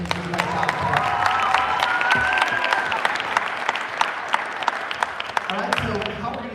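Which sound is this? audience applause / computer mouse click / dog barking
audience applause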